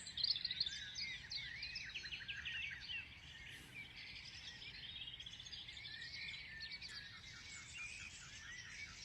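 Several birds chirp and sing continuously outdoors, some calls quick and trilling, heard at moderate distance with a faint low background hum.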